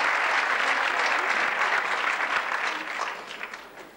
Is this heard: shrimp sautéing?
no